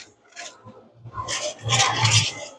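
Burrs being rubbed off a 240mm white steel deba knife on 400 grit, a few short rasping strokes that build to louder, longer scrapes, close by.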